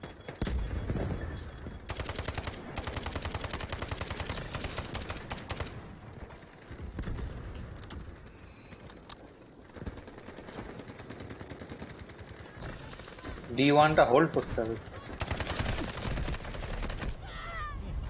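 Rapid bursts of gunfire in the video game Delta Force rattle in several stretches, mixed with game sound effects, a guided missile barrage and brief spoken voices.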